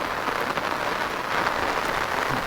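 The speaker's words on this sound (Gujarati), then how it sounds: "ફૂલ વરસાદ છે આજે તો." Heavy rain near Keliya Dam in the hills of Vansda, Gujarat, a dense steady hiss of downpour pattering on surfaces, close and continuous with no talking.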